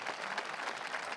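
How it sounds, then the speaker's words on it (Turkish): A concert audience applauds a state symphony orchestra after a performance of symphonic folk songs, a brief, full and even burst of many hands clapping. "İzmir Devlet Senfoni Orkestrası'na büyük bir alkış istiyorum"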